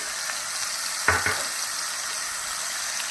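Ground beef with beef bouillon powder and dehydrated minced onion sautes in a pan, giving a continuous close sizzle, with a brief utensil scrape and knock partway through and no talking.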